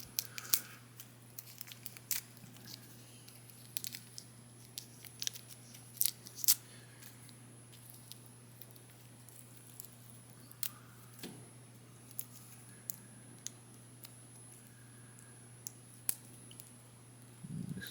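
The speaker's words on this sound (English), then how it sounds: "there's some transparency covering on the figure, which now we have to peel off" Thin transparent protective film peeled off an S.H. Figuarts Golden Frieza action figure, heard as scattered faint crinkles, small ticks and soft tearing sounds up close, separated by quiet stretches over a low steady hum.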